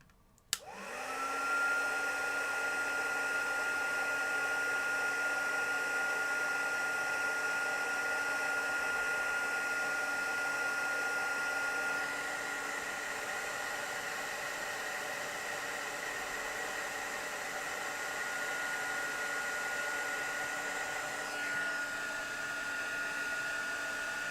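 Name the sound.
heat tool blowing for embossing on a card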